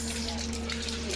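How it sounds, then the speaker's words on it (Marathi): Rain falls steadily on a home courtyard, making a continuous broadband hiss with a low steady hum underneath. "पाऊस येतोय, पाऊस."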